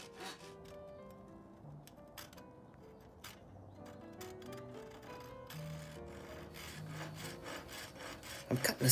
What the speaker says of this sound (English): I'm cutting a slit here in the top